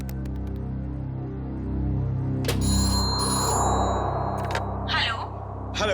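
A telephone rings with a bright, bell-like tone after a number is dialed in a Hindi TV crime-drama scene. The ring comes in one burst midway through, over a steady musical background.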